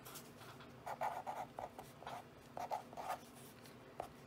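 A Micron pen with an 08 nib writes on a thin bible page, giving quiet, close scratchy strokes in short bursts with brief pauses between.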